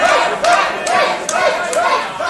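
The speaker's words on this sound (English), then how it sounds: "Great crowd, a noisy crowd in Birmingham" A noisy wrestling crowd in Birmingham chants and cheers in rhythmic, repeated surges, loud and continuous throughout.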